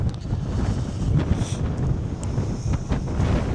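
Strong wind on Orkney buffets the microphone with a continuous low roaring rumble, loud and steady throughout, with faint rustling above it.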